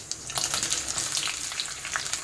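Green chillies hitting hot oil already crackling with cumin and mustard seeds, a bright, dense sizzle with quick popping spatters, close up and without any voices.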